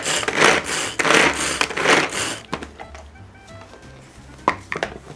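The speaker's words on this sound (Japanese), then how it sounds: "みじん切りができました。" Vegetables being minced with a knife on a board for a tofu meatloaf: three loud, rhythmic bursts of close chopping, then quieter scattered taps and clinks.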